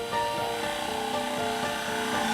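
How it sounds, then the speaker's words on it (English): Drilling into a small wooden dreamhouse in place, heard as a continuous close grinding, rasping whir through wood lasting the whole stretch, steady and fairly loud with no talk. "Charlie decides to drill the hole in situ."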